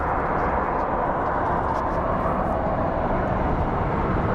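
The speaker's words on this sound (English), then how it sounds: "C-17 is probably going to go over to the" A C-17 military aircraft at Phoenix Sky Harbor airport produces a steady, loud broadband engine roar that holds constant throughout, with no breaks or speech.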